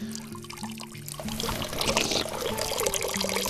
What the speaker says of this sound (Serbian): dolazimo do izvora gde iz bukovih žila izvire voda